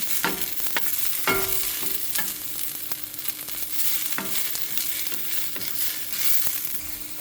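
Shakuti sizzles steadily in a pan in a Goan kitchen, a constant bright frying hiss broken by scraping stirs and clinks of a utensil against the pan.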